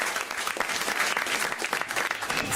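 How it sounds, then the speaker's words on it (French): Dense, steady applause from a studio audience on a French radio talk show, continuous and fairly close for a couple of seconds with no voices over it. "On vous applaudit, Azouz, bravo"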